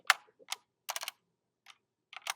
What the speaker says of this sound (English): Shout out to my ability typing with one hand.